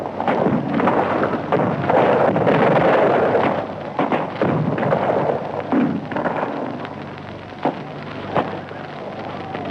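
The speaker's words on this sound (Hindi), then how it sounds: "दुश्मनों ने मुझ पे तोप का गोला फेंका है" Cannon fire and artillery shell blasts staged in a Hindi drama about the Rani of Jhansi, a dense, loud rumbling barrage of booms and crackling bursts that runs continuously, with a few sharper hits near the end.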